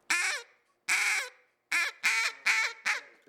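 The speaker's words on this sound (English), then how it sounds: "The fine hen quacks on a double reed be like," A fine hen quack blown on a double reed duck call: six bright, nasal quacks in two loose groups, the last four in quick succession, close and loud with no talking.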